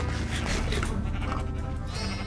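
Sheep bleating in the video game Minecraft, a few nasal, wavering bleats in quick succession that sound close and fairly loud, with no talking over them.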